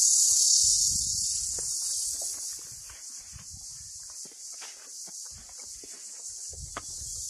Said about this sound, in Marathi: आणि इथे किडे दिवसा पण किर करतायत